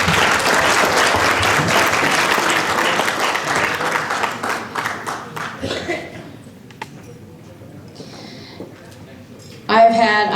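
A crowd at a Hmong Lao veterans gathering applauds the governor, a loud steady wash of clapping that thins into separate claps and fades, with a voice speaking briefly at the very end.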